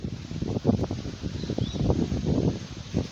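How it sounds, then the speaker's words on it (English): Gusty wind buffets the microphone on a back porch in Costa Rica, a low rumbling roar that swells and fades, with a faint bird chirp in the background. "as you can tell, it's a breezy kind of day"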